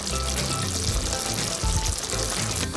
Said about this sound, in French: je vais remuer afin de faire pénétrer le persil dans les morceaux de poulet